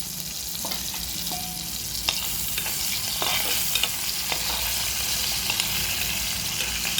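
Salted dried fish frying in a pan over low heat, a continuous close sizzle with occasional scrapes and clicks as the pieces are stirred and turned.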